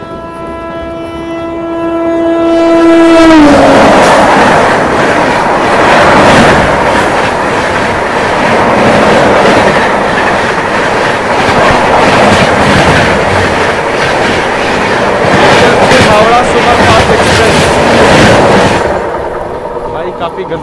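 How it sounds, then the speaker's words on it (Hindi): Yesvantpur Howrah superfast express rushing past at high speed, opening with a loud sustained horn blast, then a roaring rumble of wheels clattering over the rails for many seconds, very close and loud, fading slightly at the end. "गजब की रफ्तार में निकली यशवंतपुर हावड़ा अपनी सुपर फास्ट एक्सप्रेस"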